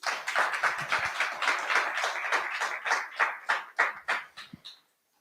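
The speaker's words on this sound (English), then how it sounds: "Give him a round of applause, please." Audience applause at a temple celebration, a dense crowd clapping steadily for several seconds, then thinning into a few separate claps before it stops.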